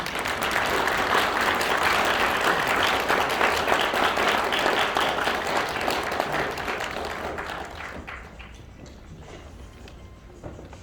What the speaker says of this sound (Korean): 여러분 박수를 좀 부탁드립니다